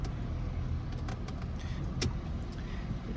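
A 1978 Chevy pickup engine runs as the truck drives forward, giving a steady, close, low rumble with a few faint clicks and no talking.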